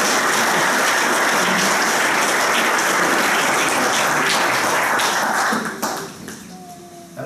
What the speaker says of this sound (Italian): Permettete quindi a questo punto di fare un applauso